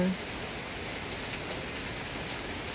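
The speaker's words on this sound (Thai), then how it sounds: "ฝนก็ตกใส่" Steady rain hisses evenly and close, a continuous wash of falling water with no pauses.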